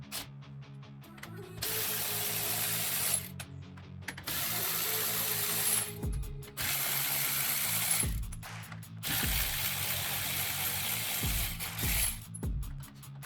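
Lug nuts being removed from a wheel of a 1967 Dodge Dart, a series of close ratcheting bursts with pauses between them, loud and mechanical with no talking.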